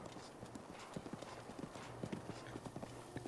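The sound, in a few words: horse galloping, clip-clop hooves in a video game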